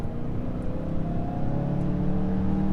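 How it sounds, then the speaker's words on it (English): In-cabin engine drone of a 2019 Volvo XC40 under full throttle, a steady, loud, rising hum that builds evenly over a few seconds with no talk. "the engine noise is not nice that comes through the"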